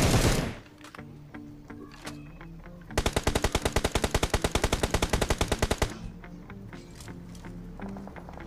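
Gunfire in the mobile battle royale game PUBG Mobile. An earlier scattering of lighter shots gives way to a loud, rapid burst of automatic fire lasting about three seconds, followed by quieter game sounds.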